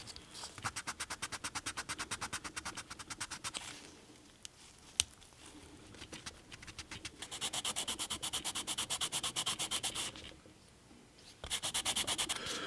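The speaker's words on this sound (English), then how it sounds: "These are real fine, so it may look like I'm just sanding the snot out of these" Fine sandpaper scrubs a 1976 Hot Wheels Redline American Tipper die-cast car in quick, rhythmic back-and-forth strokes, faint and close, in several bursts with brief pauses between them.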